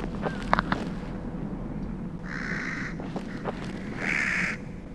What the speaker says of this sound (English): I love crows.